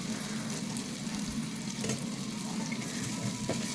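Paneer cubes frying in oil in a pan for biryani: a continuous, dense, close sizzle with faint crackles throughout, no speech.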